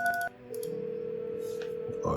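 Telephone dialing tones in the video game No, I Am Not A Human: a quick dual-tone keypress beep followed by a long steady tone, with faint background sound.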